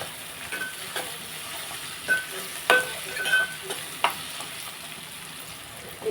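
Bottle gourd curry with buttermilk gets stirred in a pot, soft bubbling sizzle under sharp clinks and scrapes of a utensil at irregular intervals.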